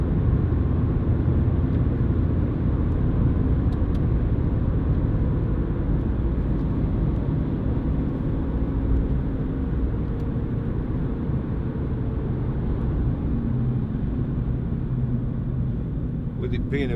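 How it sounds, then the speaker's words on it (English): Tyre noise fills the bare-backed cabin of a Ford Fiesta 1.4 TDCi panel van on the move, a steady low road rumble and roar that runs throughout at fairly high level beneath someone talking. "you do get a little bit more tyre noise coming through"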